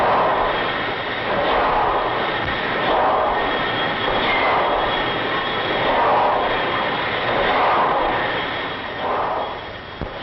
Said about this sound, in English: What a big piece of machinery helping make the boat go. And how smooth and powerful it seems.